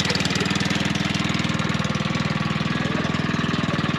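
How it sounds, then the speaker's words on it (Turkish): A motorcycle engine runs steadily at a rough idle as riders crowd onto the back to leave a village in the desert, a close, loud, rhythmic putter with no talking. "Motorun arkasına doluştular. Gidiyorlar."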